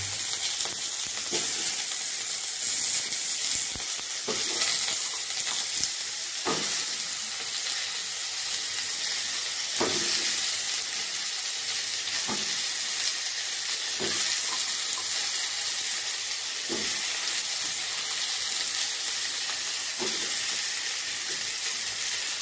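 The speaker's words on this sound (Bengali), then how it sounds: "আর এগুলোকে ভালো করে নেড়ে চেড়ে কিছুক্ষণ একটু ভেজে নিই।" Chopped vegetables fry and are stirred in hot spiced oil for khichdi bhog, a steady close sizzle and hiss with regular scraping strokes of a spoon every couple of seconds throughout.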